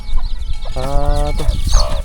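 Chickens, including a mother hen, cluck in a rural Mangkong hill-tribe village, giving a few close, short, throaty calls over a busy outdoor background.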